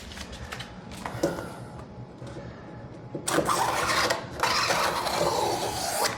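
A knife slices and scrapes across vinyl wrap on a car door, producing close, dry rasping strokes that grow denser and louder in the second half.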